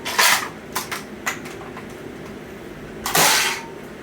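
A 1995 crossbow, modded and fitted with a K25 spring, fires two demo shots. Each is a sharp, loud snap followed by a mechanical rattle, with a few smaller clicks between them.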